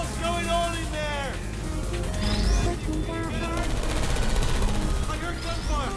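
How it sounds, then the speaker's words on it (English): Rapid automatic gunfire rattles in the video game Portal 2, loud bursts mixed with chirping electronic sweeps and a low rumble, continuing without a break. "I heard gunfire."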